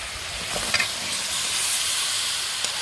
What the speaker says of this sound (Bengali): লাউটাকে আমি মশলার মধ্যে কষিয়ে নেব কিছুক্ষণ